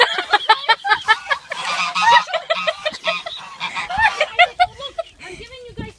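Geese honking on a farm, a rapid run of loud, close honks and cackles in quick succession, with people talking and laughing over them.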